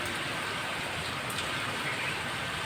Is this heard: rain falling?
yes